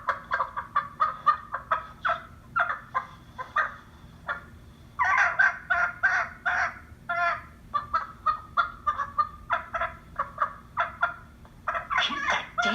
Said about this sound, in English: Keep that damn chicken quiet.